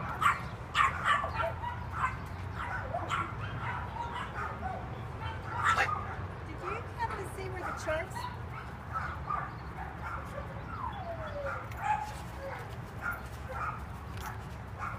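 A small dog gives scattered yips, barks and whimpers at another dog over about fifteen seconds, moderately close amid steady outdoor background noise.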